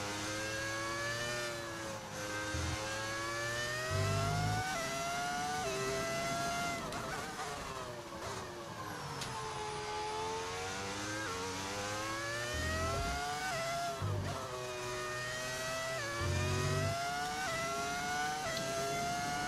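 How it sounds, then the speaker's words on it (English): Race car engine in the F1 25 video game fitted with a V10 audio mod, a loud continuous high-pitched wail rising and falling through gear changes, with brief dips on downshifts, running steadily for the whole stretch without talk. "How to make the car sound so nice? It's a V10 audio mod."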